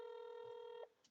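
A telephone dial tone or dialing beep holds steady for nearly a second and then cuts off, followed by a short faint click; it is quiet and alone.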